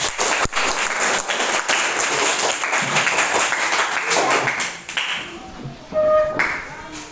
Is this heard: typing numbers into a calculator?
no